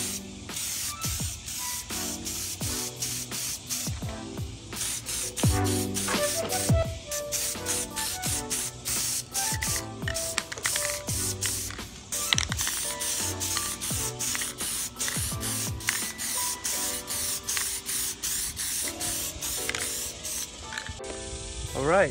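A cheap electric spray gun sprays paint in a loud, continuous hissing buzz close by, with rapid rattling pulses from the motor running throughout, uninterrupted for over twenty seconds.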